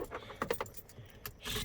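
Car keys for a Toyota FJ Cruiser jingle in a hand, a few quick close metallic clinks in a short burst followed by a brief rustle.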